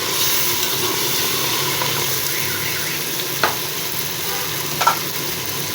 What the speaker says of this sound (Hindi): ये देखें मसाला कितनी अच्छी से भून चुका है